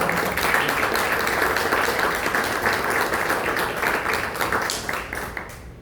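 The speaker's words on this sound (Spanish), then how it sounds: "Un fuerte aplauso, por favor, para él." An audience applauds at a book launch held in a literary house, dense steady clapping filling the room, loud and continuous before tapering off at the end.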